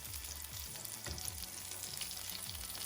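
Vegan French toast fries in margarine in a pan, giving a steady, soft sizzle and crackle throughout, with faint scraping stirs underneath.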